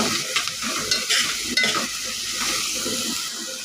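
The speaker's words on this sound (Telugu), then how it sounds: "ఉల్లిపాయలన్నీ కొద్దిగా మగ్గించుకోవాలి ఒక రెండు నిమిషాలు మగ్గించుకోవాలి" Onions sautéing in a pan for an okra and egg curry, a steady close sizzle with repeated spatula stirring scrapes and light clinks, no voices.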